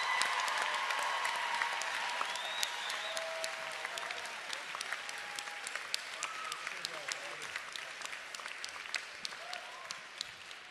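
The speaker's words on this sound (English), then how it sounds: "A big round of applause for Marian Hossa" A crowd at a kids' hockey press conference claps for Marian Hossa of the Blackhawks, a continuous patter of many hands, fairly quiet and distant, with faint voices and squeals over it.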